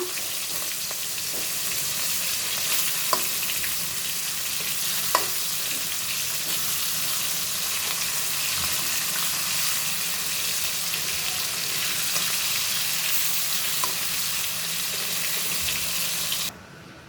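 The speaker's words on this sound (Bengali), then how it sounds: "আমি ইলিশ মাছগুলো একটু হালকা ভেজে নিব বেশি ভাজবো না" Small hilsa fish lightly frying in a pan, a steady bright sizzle with a few faint clinks, continuous and close, with no talk.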